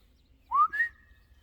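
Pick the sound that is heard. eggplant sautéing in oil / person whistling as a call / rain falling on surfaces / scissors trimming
person whistling as a call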